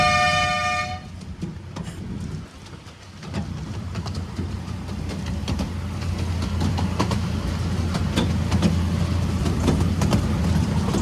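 A Welsh passenger train rumbles along a bypass line past a railway station, a brief horn tone at the start giving way to a steady clattering roll of wheels and carriage noise.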